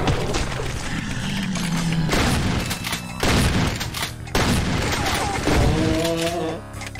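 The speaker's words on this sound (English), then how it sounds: "That shotgun was more effective than I thought" Shotgun fire in the game Doom: heavy booming blasts come in bursts with crashing impacts between them, loud and close amid dense game noise.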